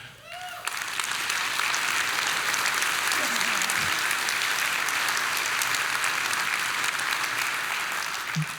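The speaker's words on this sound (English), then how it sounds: "we're going to give you a special applause" A large audience at a county address event applauds honored judges, a sustained, even wash of clapping that starts abruptly and holds steady for several seconds, with a brief voice at the start.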